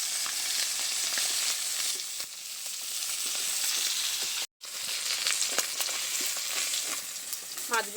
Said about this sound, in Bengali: মাছগুলো উল্টে নিচ্ছি।